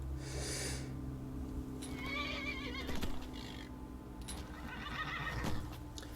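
A horse in the video game Skyrim whinnies loudly twice, each neigh a shrill wavering cry, with light hoof clops and a steady low hum underneath.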